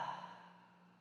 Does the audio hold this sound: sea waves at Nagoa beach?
no